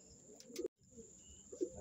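Pigeons being fed give soft, low coos, one near the start and another near the end, with a brief cut to silence in between.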